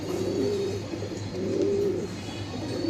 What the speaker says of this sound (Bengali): এই কবুতরগুলোকে আমরা বলি সুন্দরী সবুজ গলা কবুতর